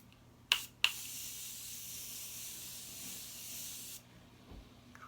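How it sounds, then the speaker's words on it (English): Morphe Prep and Set primer spray mists out close up in two quick bursts, followed by a long, steady hiss lasting a few seconds, then quiet. "So I'm going to be taking the Morphe Prep and Set primer spray."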